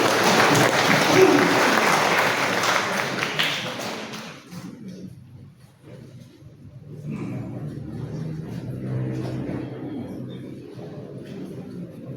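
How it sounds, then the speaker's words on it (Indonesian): Audience applause at a Catholic parish pastor handover signing ceremony, a loud sustained clapping for about four seconds that fades, then lighter scattered clapping returns under a murmuring crowd. "Boleh kita iringi dengan tepuk tangan Bapak Ibu yang terkasih."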